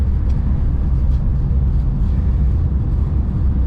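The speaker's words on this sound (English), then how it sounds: "The car just runs so much better since I" A freshly tuned Hillman Superminx car engine runs at a steady idle, a continuous low rumble close by with no pauses or voices.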